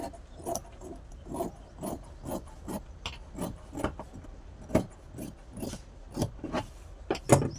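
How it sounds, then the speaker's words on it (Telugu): Scissors cut fabric for a one-year-old baby's gown in a series of soft, quiet, evenly spaced snips and rasps, close and alone. "ఇప్పుడైతే దీన్ని కటింగ్ చేసేసుకుందాం."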